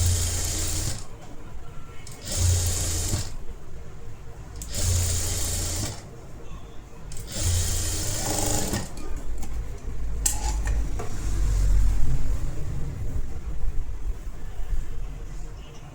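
A sewing machine stitches a folded edge of a blouse in several separate bursts, each lasting a second or two, with pauses between them. It sounds close and fairly loud, and background talk continues throughout.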